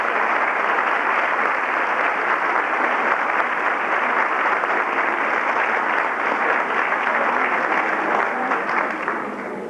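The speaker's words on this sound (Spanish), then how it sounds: "Vamos a recibirlo con un aplauso cariñoso" Theatre audience at a municipal theatre tribute claps in steady, dense applause that fills the hall for about ten seconds before easing slightly at the end.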